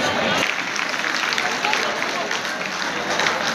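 Dense, steady clapping from a sizable crowd fills the whole stretch, loud and continuous with no pauses.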